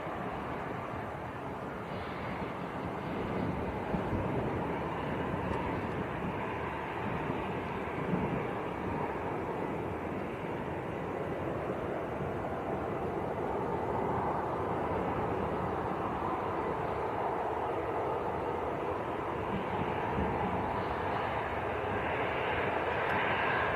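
A Jet2 Airbus A321neo bound for Lanzarote roars steadily at Manchester Airport, a broad, sustained engine rumble that holds evenly throughout with no voices over it.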